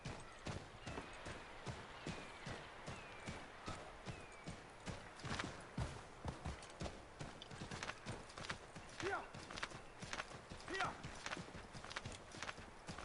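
Horse hooves clip-clop steadily in Assassin's Creed 3, a dense rhythmic run of clear hoofbeats lasting throughout, with a brief whinny and someone talking over it.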